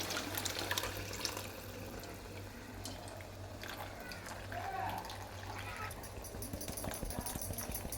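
Tamarind water being poured into a pan of sautéed sundakkai (turkey berries) for kuzhambu, a soft liquid splash and trickle heard faintly, close by in a home kitchen.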